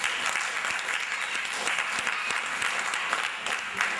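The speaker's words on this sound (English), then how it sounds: "I would want us to clap for Dikin Olatunde." A crowd applauds warmly to honour Dikin Olatunde, steady clapping with no talk that holds at an even level for the full few seconds.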